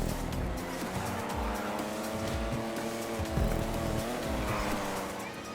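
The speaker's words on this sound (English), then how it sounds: "Oh, Briggsy, you and your cute little car." A sports car in GTA Online drives with a steady engine drone and tire noise, revving up and down with brief squeals as it corners, fairly close and loud throughout.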